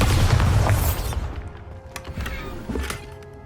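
A Bombarda blasting spell explodes in the game Hogwarts Legacy, a single deep boom that fades into rumbling debris and scattered thuds.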